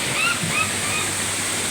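Steady broadband rush of the waterfall at Laguna Falls in Perez, Palawan, a continuous close roar of falling water with brief voices and shouts in the background.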